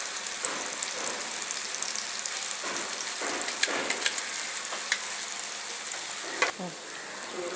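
Achappam batter on a hot mould sizzles in hot oil, a steady, dense frying hiss with small crackles and pops, close and constant throughout with no talking.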